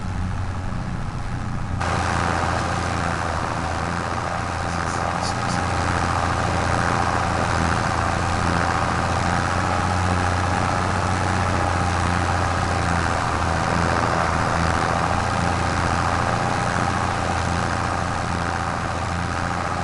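An old tractor engine in the Farming Simulator 25 video game idles with a steady low rumble, running unbroken and fairly loud throughout, with a faint higher whine laid over it.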